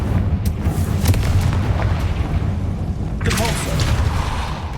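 A Confringo fire spell bursting in the video game Hogwarts Legacy, a deep rumbling boom that rolls on for several seconds under a loud game soundtrack, with a second sharp blast arriving near the end.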